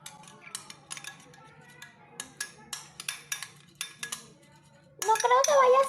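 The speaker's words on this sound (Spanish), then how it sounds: "Y ahora vamos a batir." A utensil whisking a glue-free slime mixture in a bowl, rapid rhythmic clinking and scraping strokes, close and clear, ending in a louder, denser rattle of stirring.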